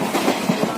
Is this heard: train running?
yes